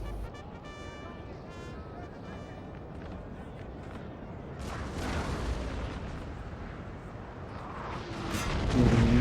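Artillery fire from Total War: Napoleon rumbles in muffled booms that swell in the second half, with faint battle noise and a brief voice near the start.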